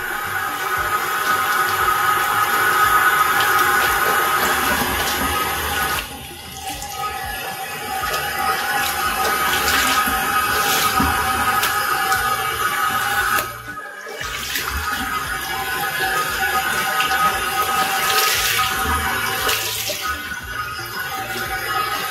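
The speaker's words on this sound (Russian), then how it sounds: "Споласкивать нужно в теплой или холодной воде." Tap water runs steadily into a sink while a garment is rinsed in warm or cold water, a loud continuous splashing rush with brief dips as the cloth is moved.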